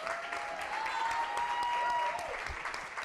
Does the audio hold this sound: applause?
yes